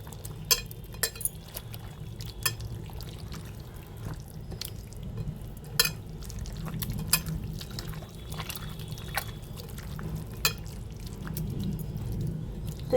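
Boti kebab meat pieces are squeezed and kneaded by hand in marinade, giving soft wet squelches and faint clicks against a bowl, with irregular quiet slaps over a low steady background.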